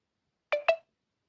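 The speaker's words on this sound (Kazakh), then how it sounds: "Уведомление." A phone notification chimes as two quick, clean tones in close succession, alone against silence.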